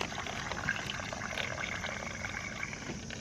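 Water is poured into a pouch of MRE beverage powder from a US hot-weather ration, giving a steady close splashing trickle that runs without a break and with no talking.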